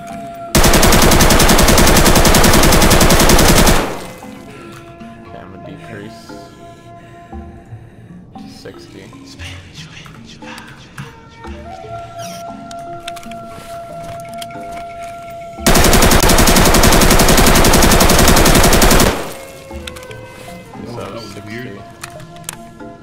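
Automatic rifle fire in Escape from Tarkov rattles out in two long, loud, continuous bursts at the start and again later. Quieter game sounds and talk fill the stretch between them.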